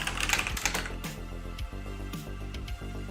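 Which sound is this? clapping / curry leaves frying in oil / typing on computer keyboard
typing on computer keyboard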